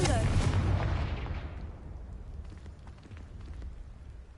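A Confringo fire spell blast in Hogwarts Legacy on PS5: a loud booming burst that hits at once and rolls off into a fading rumble over several seconds.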